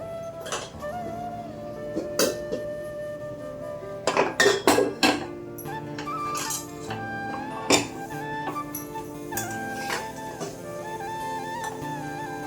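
A metal kadhai and utensils clank and clink in a kitchen, scattered knocks with a quick burst of rattling clatter in the middle, ringing tones lingering between.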